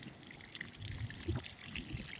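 Liquid jeevamrutham is released slowly from a 500-litre drum into flowing irrigation water in a paddy field, giving a soft, close trickling pour with faint gurgles.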